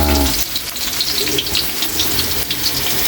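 Garlic frying in a hot pan for pork adobo before the onion goes in, a steady loud sizzle with light clatter and no talking throughout.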